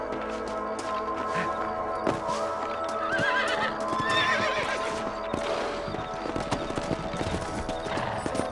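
Horses in the video game Red Dead Redemption whinny several times over a bed of clip-clopping hooves, with a few sharp thuds and rustling movement nearby.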